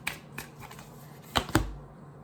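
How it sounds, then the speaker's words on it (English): Tarot cards being shuffled in short riffling bursts, a few soft clicks and flutters followed by two sharper, louder card snaps near the end, close and with no talk. "Alright, let me start shuffling."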